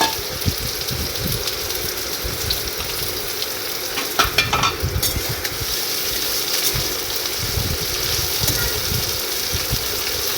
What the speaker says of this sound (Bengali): কড়াইতে তেল গরম করে উচ্ছেগুলো দিয়ে দিচ্ছি কেটে রাখা উচ্ছেগুলো দিয়ে দেবো